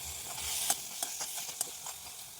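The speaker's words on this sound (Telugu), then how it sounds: "ఇలా మగ్గుతున్నప్పుడు ఒకసారి కలుపుకోవాలి" Jackfruit mixture for kudumulu stirred in a pan on the stove, the spoon scraping in a few distinct knocks over a constant soft sizzle.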